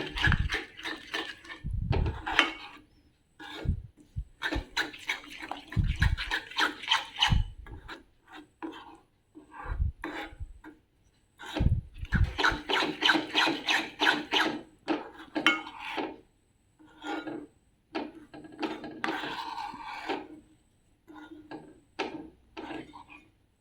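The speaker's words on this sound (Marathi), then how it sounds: "हा मसाला घालूया आपण आणि मिक्स करूया. या तेलात जरासा फेसून घेऊया आपण मसाला." Spice masala is stirred into oil for an instant amla pickle, with repeated scraping and rubbing of a spoon against the pan in bursts, close and quiet, with pauses between strokes.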